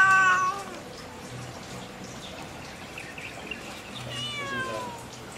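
A cat meows clearly at the start and again near the end. The two drawn-out calls are separated by a few seconds of quiet, faint background noise.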